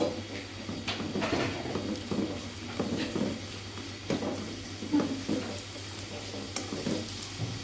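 Chopped onions frying in a pan for mutton kofta curry give a soft continuous sizzle, with irregular scraping and stirring knocks from a spoon, close by and fairly quiet, with no voices.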